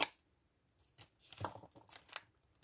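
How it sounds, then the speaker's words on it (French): A small piece of music paper is torn by hand for a junk journal collage, giving a short, quiet rip followed by a few close crinkling tears in a silent room. "peut-être un petit bout de papier musique déchiré"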